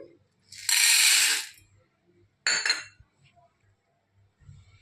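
Dry sago pearls poured and scooped into a measuring cup, one long rattling pour followed by a shorter rustling scoop, close and crisp in a quiet kitchen.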